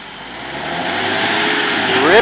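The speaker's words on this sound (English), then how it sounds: "It's a great cat track-driven tractor" A Cat rubber-tracked tractor, working a Mississippi field being prepared for winter red wheat, runs its diesel engine close by and builds steadily louder, rising into a revving surge at the end.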